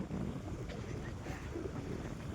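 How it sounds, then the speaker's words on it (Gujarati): Sea waves wash against a Gujarat shoreline under steady, rushing wind that buffets the microphone, giving a continuous, dense roar with no clear breaks and no talking. "આ બધો દરિયો છે."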